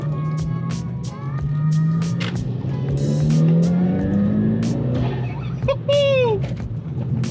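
Volkswagen GTI fitted with a CTS Turbo cold air intake accelerating hard, engine tone climbing through rising revs with intake whoosh, shifts and sharp clicks, loud and close inside the car, with a person speaking briefly over it.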